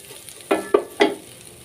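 Rice with egg and vegetables is stirred in a frying pan, making three quick scraping strokes of a spatula with a light sizzle, close and fairly loud.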